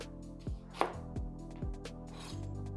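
Knife chopping straight down through shallots on a cutting board, several firm, evenly spaced chops close up, with no voices.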